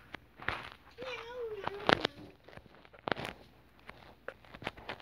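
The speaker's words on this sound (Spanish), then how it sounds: "muy pronto van a oír sonidos de gato maullando, llorando porque no quieren que lo bañen." A cat meows in PUBG with a single drawn-out, wavering cry in the middle, set among scattered taps, clicks and soft footsteps-like patter at low volume.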